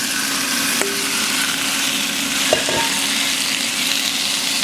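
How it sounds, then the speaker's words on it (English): A steak sears in oil in a hot skillet, a loud, dense, unbroken sizzle with a couple of faint utensil clicks underneath. "we're gonna sear off our steak"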